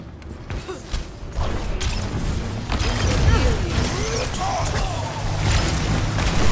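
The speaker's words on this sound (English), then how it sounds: "Sentry turret placed." A sentry turret being placed and assembled in a video game, with clanking mechanical creaks and whooshing whirs building up over several seconds against a dense, loud game soundscape.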